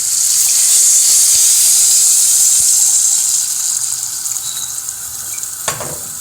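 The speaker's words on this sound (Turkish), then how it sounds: "Şimdi suyunu ilave ediyorum." Water poured into a pan of sautéed eggplant and meat sets off a loud, steady sizzle and hiss that stays close and continuous, easing slightly toward the end.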